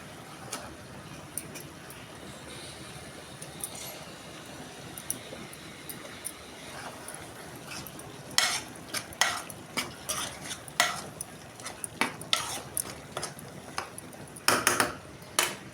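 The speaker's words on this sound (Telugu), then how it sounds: "ఇప్పుడైతే టమాటా ముక్కలు కూడా వేసేసుకుంటానండి" Tomato pieces stirred in a pan for an egg, mango and tomato gravy curry, with a faint low sizzle and a run of sharper metal scrapes and clinks from the spoon that grow busier toward the end.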